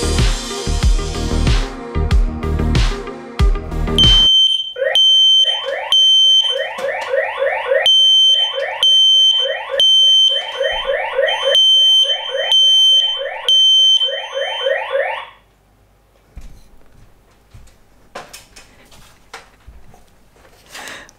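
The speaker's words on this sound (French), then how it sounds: "Et on va voir si les détecteurs se déclenchent." A residential smoke detector set off by essential-oil diffuser mist shrieks in loud, rapid repeating beeps for about ten seconds. Noisy handling sounds come before it, and faint background rustle follows.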